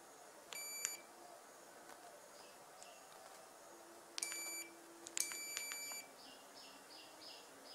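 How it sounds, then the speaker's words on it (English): A faulty washing machine controller circuit board, a SANYO ASW-82HT unit, emits short electronic beeps, one near the start and two later longer tone bursts, fairly faint over a quiet background hiss. "We can connect to the main supply and see the faulty controller beeping."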